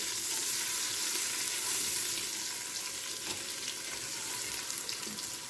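Onion with garlic-ginger paste frying in a pressure cooker, a steady loud sizzle with occasional stirring scrapes, continuous throughout.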